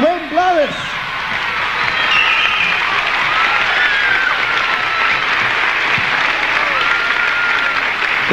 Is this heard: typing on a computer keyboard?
no